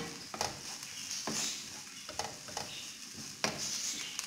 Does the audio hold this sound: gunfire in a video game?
no